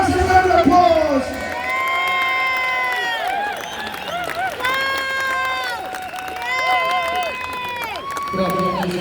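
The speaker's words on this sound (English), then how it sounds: "Give him a massive round of applause." A large crowd at a London street march roars with cheering, whoops and clapping, loud and sustained outdoors, with shouting voices layered throughout.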